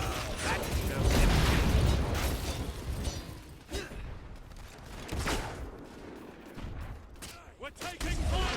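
Gunfire rattles through a battle in the video game Battle for Albion, with dense bursts of shots and mechanical clatter under shouting voices, loudest early and surging again near the end.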